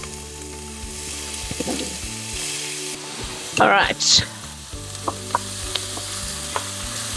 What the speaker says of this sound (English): our vegetable oil's in, heating up. In go our onions.